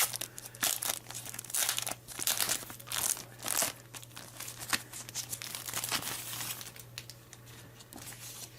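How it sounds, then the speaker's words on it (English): A paper instruction manual for a Dyson Hot + Cool Jet Focus AM09 fan heater is unfolded close by, with bursts of crisp crinkling and rustling over a steady low electrical hum. "open up the manual here and see what we have"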